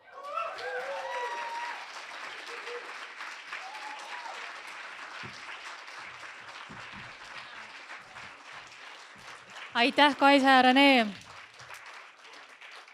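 Audience applause at a literary awards ceremony, a broad and fairly even clapping that carries under and around spoken words, with a brief burst of louder voices near the end.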